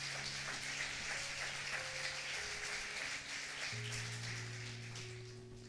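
A church congregation applauds steadily, with dense sustained clapping like rain and sustained organ-like tones underneath, fading slightly at the end.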